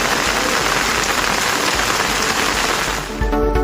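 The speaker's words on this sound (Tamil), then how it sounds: "1 மணி நேரத்திற்கு மேலாக இடிமின்னலுடன் கனமழை கொட்டியது" Heavy rain pours down hard during a thunderstorm lasting over an hour, a loud, dense, continuous hiss of drops hitting surfaces, with a brief dip near the end.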